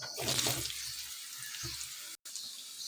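Potato pieces hit hot oil seasoned with ginger for a Bengali mixed vegetable dish, setting off a loud, close sizzle that settles into a steady hiss, with a brief drop-out near the end.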